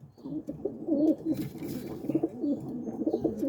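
Several pigeons coo softly and repeatedly inside a small racing-pigeon loft, their overlapping low throaty calls close by, with faint wing and shuffling sounds.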